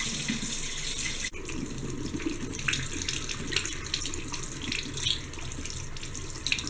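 Tap water running into a bathroom sink for washing the face, a steady close splashing stream with small irregular spatters and one brief clunk, continuous and without talking.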